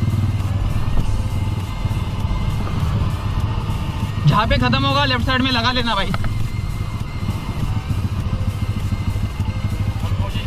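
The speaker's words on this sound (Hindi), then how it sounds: "तो काफ़ी ज़्यादा मिसिंग मार रही है बाइक।" A Bajaj V15 motorcycle running out of petrol keeps up a steady, uneven engine drone with misfiring stutters, while someone talks over it throughout.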